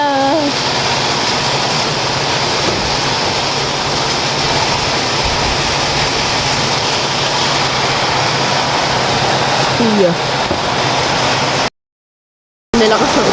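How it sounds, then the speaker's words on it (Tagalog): Heavy rain pours steadily, a dense unbroken roar of water close by, with a brief cut to silence near the end. "Sobrang lakas ng ulan."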